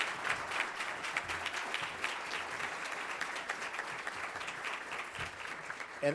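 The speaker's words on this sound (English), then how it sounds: "So if we could give them a round of applause for all their work." A roomful of people at a leadership fellowship gathering claps for honored fellows, with steady, moderately quiet applause lasting several seconds and no talking over it.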